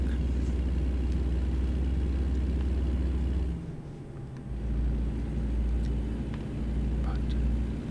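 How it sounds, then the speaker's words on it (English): A truck in the American Truck Simulator game rumbles steadily along the road, its low engine drone dipping briefly midway before returning, with faint whispering over the top. "Some quiet times where you can just enjoy the sounds of the truck."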